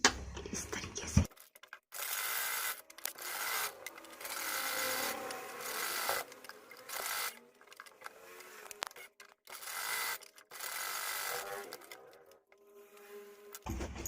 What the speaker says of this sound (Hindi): अब ये पट्टी भी हम बैक साइड को मोड़ के फिर सिलाई लगा लेते हैं इस तरीके से।